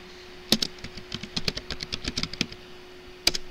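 Typing on a computer keyboard: a quick run of light, uneven key clicks after one sharper tap, ending in a louder single strike, with a faint steady hum underneath and no talk.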